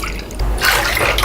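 Water poured into a bowl to make sugar syrup for gulab jamun, a short, close splashing fill that grows louder midway through.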